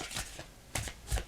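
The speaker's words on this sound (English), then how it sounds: "I'm shuffling, as you can see" Playing cards shuffled in short bursts, three quick soft riffles and flicks close by with brief pauses between them, quiet and without speech.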